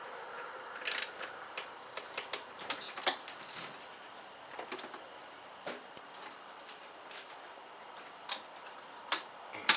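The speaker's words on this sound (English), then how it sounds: "I'm going to torque these up to 44 inch-pounds, starting with number 1" A torque wrench ratchets intake manifold bolts tight on a 5.3L Chevy Avalanche engine, a run of sharp irregular metallic clicks and ticks, close and fairly faint, no talk.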